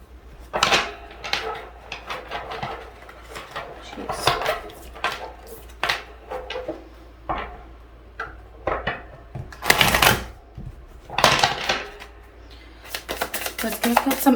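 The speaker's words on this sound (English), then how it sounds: "So I'm going to start with shuffling them to get the energies regarding your connection." Tarot cards shuffled by hand in short crisp bursts, riffles and slaps repeating irregularly, close and fairly loud, with occasional soft knocks between them and no speech.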